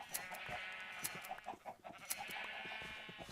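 Sheep in a Minecraft multiplayer survival game bleat again and again, overlapping, in a steady run of game sound effects.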